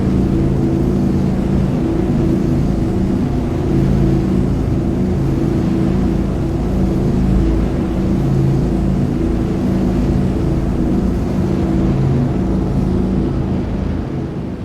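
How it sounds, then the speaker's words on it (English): Loud, steady roar of a spaceship engine in the space game Star Citizen, a continuous low drone with layered hum running unbroken and close throughout, with no talk. "I wonder if that has anything to do with the extra engine in the back."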